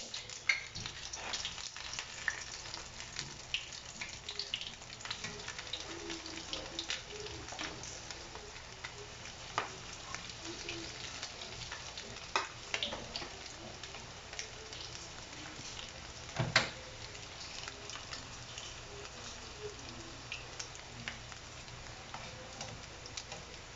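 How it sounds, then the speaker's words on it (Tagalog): Quiet, steady crackle and sizzle of coated sweet ham frying in oil over a low flame, with occasional sharper pops over a low background hiss. "Subukan na nating mag-prito."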